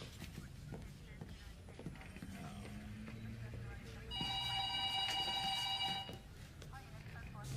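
A telephone rings in a police station setting, its electronic bell tone sounding for about two seconds midway through, moderately loud over steady background murmur and room noise.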